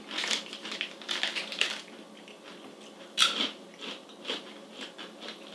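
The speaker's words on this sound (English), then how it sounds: "It's definitely crunchy. It's crispy mozzarella." Close, quiet crunching bites and chewing of crispy mozzarella cheese, several crisp crackles in irregular bursts, with a louder crunch midway and soft mouth noises between.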